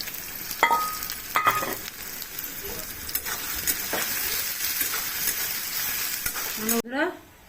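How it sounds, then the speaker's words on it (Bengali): Three large onions frying in hot oil for chicken kacchi biryani: a steady, close sizzle with scraping stirs and a clatter near the end, no voices. "বন্ধুরা তেল গরম হয়ে গেছে পেঁয়াজটা দিয়ে দিচ্ছি"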